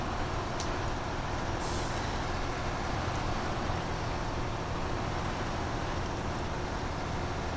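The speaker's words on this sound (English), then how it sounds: "cloud of air when the hydraulic brakes release" Air brakes on an RNG M31 military tractor in SnowRunner give a short, sharp hiss of escaping air, set within a constant loud rush of engine and wind noise.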